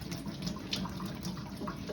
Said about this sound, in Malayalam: ഇവിടെ ഇരുന്ന് വെള്ളം പോട്ടെ